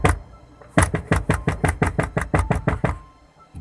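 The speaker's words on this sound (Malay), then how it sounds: "Pintu almari mula bergegar." An antique cupboard door rattles hard in a burst of about a dozen fast, loud, evenly spaced knocks, then stops, as a sound effect in a horror story.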